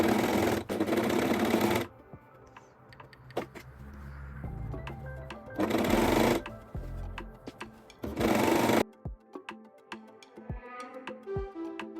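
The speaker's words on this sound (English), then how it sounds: "Sew the neckband in place and press carefully without stretching the neckline." A sewing machine stitches a neckband onto a cropped t-shirt in three close, loud bursts of rapid whirring, with quieter handling and fabric rustle in the pauses between runs.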